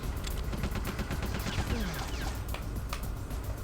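Gunfire in the stealth video game Metal Gear Solid: The Twin Snakes, a dense run of sharp reports and bursts over constant game background noise, loud and continuous throughout.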